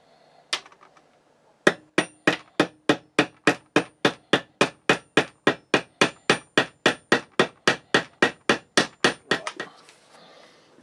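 A hammer peens over a pin holding a sword pommel with a small brass washer, striking about two dozen sharp, even, close blows in steady rhythm after one opening tap, then stopping.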